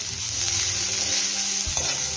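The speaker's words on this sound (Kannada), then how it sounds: "ರುಚಿಗೆ ತಕ್ಕಷ್ಟು ಉಪ್ಪನ್ನು ಹಾಕಿ ಸರಿಯಾಗಿ ಹುರಿದುಕೊಳ್ಬೇಕು" Turmeric powder, asafoetida and salt are stirred and dry-roasted in a pan for ridge gourd chutney, a steady close sizzle with a soft spoon scrape near the end and no voices.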